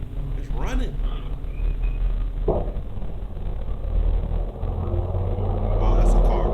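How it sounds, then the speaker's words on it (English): A car passes by outdoors, a steady low rumble that swells and builds toward the end, with people talking over it. "Oh, that's a car."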